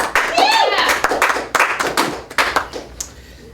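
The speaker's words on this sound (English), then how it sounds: "Let's hear some applause for the basket of questions" A small audience claps in several short, uneven bursts of close hand claps with whoops and cheering voices mixed in, fading slightly toward the end.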